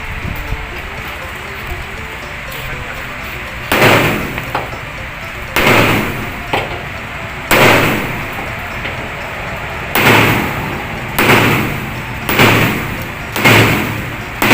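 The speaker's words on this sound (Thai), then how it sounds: "ตัวนี้นะฮะต้องใช้แรงตอกออก" Loud, sharp hammer strikes pound a steel leaf spring bushing out of a Tata Giant truck, single blows spaced about two seconds apart over a steady background hiss.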